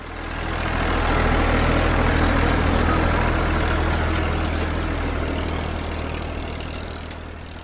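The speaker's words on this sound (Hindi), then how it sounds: "मैं समझ गई, ट्रैक्टर।" A tractor engine runs loud and close in a steady, deep diesel chug that holds throughout without a break.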